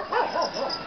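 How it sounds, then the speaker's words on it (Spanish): Dogs guarding an asphalted street in Chilete, Peru, give short yipping barks at moderate distance, a few quick calls in a row with no talk over them. "que siempre con su ladrido se avisan a los dueños de alguna posibilidad de robo"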